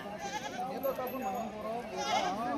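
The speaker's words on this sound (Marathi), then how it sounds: "पहा, आज बाजारमध्ये टॉप क्वालिटीच्या शेळ्या आलेल्या आहेत." Goats bleat repeatedly at the Shirur livestock market in Maharashtra, wavering calls rising and falling close by, mixed with the background murmur of people talking around the animals.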